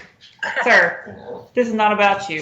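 A pet dog barks and whines at someone making a delivery, its sharp calls mixed with a person speaking close by over the noise.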